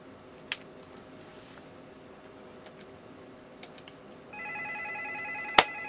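Telephone ringing in the PS1 game Martian Gothic: Unification, a faint electronic tone starting late over quiet ambient hum with a few clicks and a sharp click near the end.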